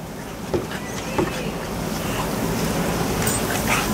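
A lawn sprinkler spraying water outdoors, a continuous broad hissing wash with a few soft thumps and splashes early on, steady and fairly close.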